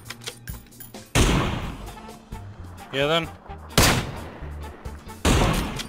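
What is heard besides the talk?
gunshots in a shooting video game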